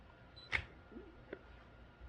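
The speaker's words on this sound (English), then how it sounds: "And now if I push and hold the shutter button," An SLR camera in bulb mode is fired with a remote trigger. Its shutter opens with one crisp, close click, and a softer click follows under a second later against a quiet room.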